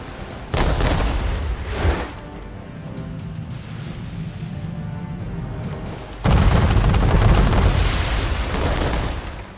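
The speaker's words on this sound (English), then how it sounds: "just brace when you hear the cannon fire" Cannon fire during a naval battle in a video game: loud booming blasts, one early and a heavier sustained barrage later, with rumbling between, and no talk.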